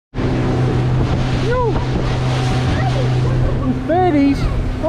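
A 2020 Honda BF75 outboard motor drives a boat out on the water, a steady low drone under heavy wind buffeting, with a few brief high chirping tones.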